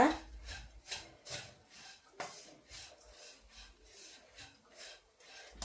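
Dried prawn sambal being mixed with powdered dried prawns by hand in a bowl: close, rhythmic rubbing and scraping strokes repeating about once a second, with faint background voices.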